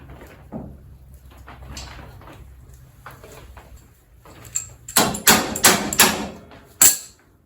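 Quiet metallic fiddling gives way to several loud, sharp hammer blows on a riding mower's metal steering parts, spaced irregularly, close by.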